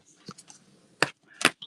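A bone folder is pulled along the creased paper edges of a handmade junk-journal flip-out folio, giving two short, crisp scraping strokes close by, with softer paper rustles and taps before them.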